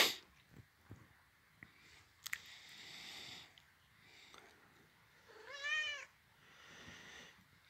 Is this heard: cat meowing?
yes